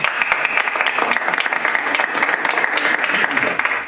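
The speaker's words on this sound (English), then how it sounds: "That deserves a round of applause." A round of applause at a school district board of education meeting, steady clapping from a small group filling the room for a few seconds, with voices mixed in.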